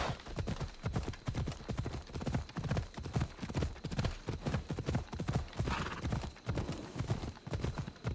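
Fast, even hoofbeats of a galloping horse in Assassin's Creed Odyssey pound without pause, close and loud, with a faint whinny and little else around them.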